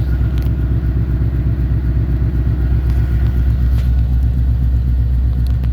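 A 1993 Chevy Blazer K1500 with true dual exhaust idles in a loud, deep, steady rumble up close, with no talk over it.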